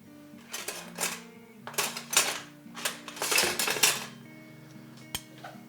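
Metal tongs stir spaghetti in a pot of boiling water, a run of close clinks and scraping clatters against the pot in irregular bursts, with a faint background hum.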